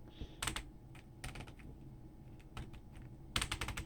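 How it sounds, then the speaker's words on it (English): Small plastic clicks from the adjustment knob of a Valve Index VR headset being tightened, quick clustered ticks in short bursts, close up and fairly quiet with no talking. "Adjustment knob clicks when tightening."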